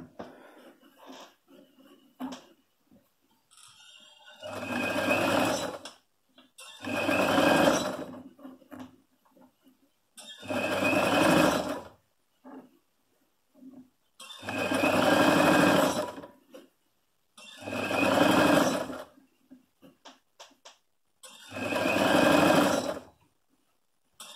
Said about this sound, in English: you just keep on sewing and you just keep on tucking it and tucking it